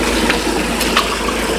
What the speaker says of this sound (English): The water's filling up.